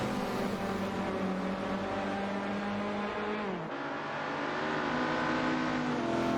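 Mustang and Mercedes touring cars racing at Silverstone in Assetto Corsa, engines droning loudly and steadily with a pitch drop near the middle as one shifts or lifts, then climbing again.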